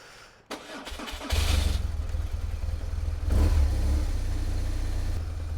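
A BMW R1200GS motorcycle engine, after a spark plug change, cranks and fires into a loud, close, steady idle with a brief rise in revs.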